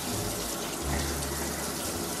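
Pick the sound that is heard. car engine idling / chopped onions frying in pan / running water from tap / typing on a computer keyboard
running water from tap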